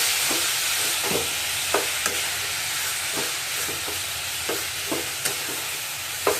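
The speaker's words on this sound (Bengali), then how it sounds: "ভালো করে নাড়িয়ে দেবো।" A spoon stirs flattened rice pulao with lemon, turmeric, onion, sugar and salt in a pan, giving a steady frying hiss broken by light, irregular scraping taps.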